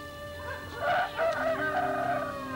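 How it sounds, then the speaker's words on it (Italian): A rooster crows once in a loud, close, drawn-out cock-a-doodle-doo that rises and falls over a couple of seconds, heard alone without any talk. "In quell'istante un gallo cantò."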